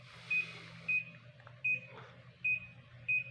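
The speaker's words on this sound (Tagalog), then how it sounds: "you have to listen the beep sound" Five short electronic beeps from a Daikin air conditioner sound at steady intervals, clear and moderately close, over a low hum with faint background noise, signalling no error code.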